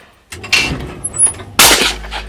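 Two loud, close shotgun blasts at skeet clay targets on an outdoor range, each a sharp crack with a trailing boom, spaced about a second apart, with no talking.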